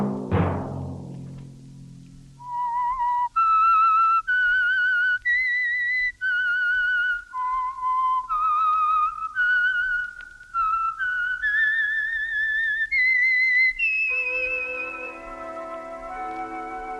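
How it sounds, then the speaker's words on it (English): A melodic whistled tune of clear sustained notes, steady and prominent, stepping through a phrase before settling into a lower held tone, the signature whistle of an old radio program sponsored by Signal Oil. "Let that whistle be your signal for the Signal Oil program"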